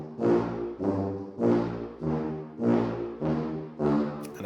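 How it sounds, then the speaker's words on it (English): A sampled tuba from the BBC Symphony Orchestra Labs trombones and tuba set plays short staccatissimo notes, about seven deep brassy blasts in an even rhythm, loud and alone. "It's almost par for par with the actual tuba sound."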